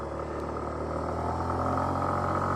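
A Yamaha JOG125 scooter climbs a steep mountain pass road under open throttle, its engine a steady, continuous drone with a dense band of road and wind noise, held at an even level throughout with no voices.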